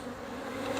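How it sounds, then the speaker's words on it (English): Honeybees buzzing at a hive after a swarm, a steady close drone with no break across the brief moment. "Bees are crawling right back up"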